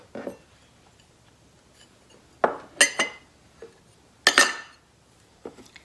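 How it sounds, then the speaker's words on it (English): Homemade dry seasoning stirred together in a single bowl, with a few sharp scraping clinks of a utensil against the bowl in separate bursts amid quiet gaps. "Mix it really well"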